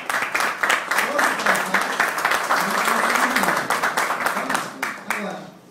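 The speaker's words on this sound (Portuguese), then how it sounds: "vamos dar uma aplauso à nossa presidente." An audience applauds the president at an education event, a full round of steady clapping with voices mixed in, tapering off in the final second.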